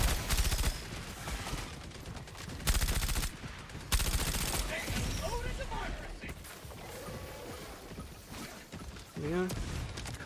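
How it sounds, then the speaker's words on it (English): A deployed machine gun sentry in a video game fires bursts at enemies, loud rapid rattling volleys that come and go across the scene, mixed with other game effects and someone talking over it. "I'm gonna throw down my machine gun sentry or another one"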